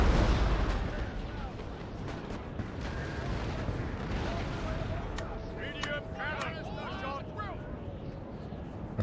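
Booming medium cannon and artillery fire rumbles through a dense Napoleon: Total War battle soundscape, with sharp cracks and whistling tones layered over continuous low thunder.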